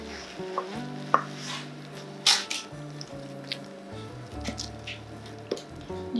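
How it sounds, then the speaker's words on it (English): Wet stout bread mix is poured into a baking tin, making close, soft squelches and plops. Irregular wet slaps and scraping sit over a low background hum. "So now I'm just going to pour in the mixture straight into the tin."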